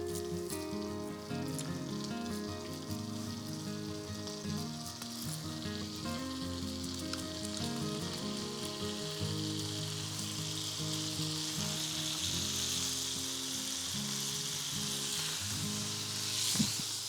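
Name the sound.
salmon patties frying in foaming butter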